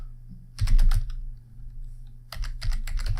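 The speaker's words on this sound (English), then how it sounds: "So let's type in sudo" Quick bursts of clicking on a computer keyboard as a command is typed, two close clusters of keystrokes separated by a short pause, loud and near with no voice over them.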